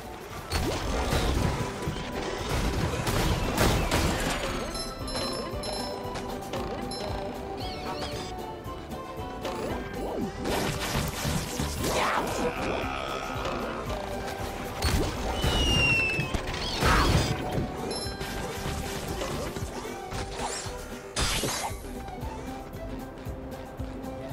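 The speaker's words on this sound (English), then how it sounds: "First we're gonna destroy these robots." Robots being smashed in SpongeBob Battle for Bikini Bottom Rehydrated, a run of loud crashes and clanking metallic impacts repeating over a busy game soundtrack, with occasional chimes and whooshes between hits.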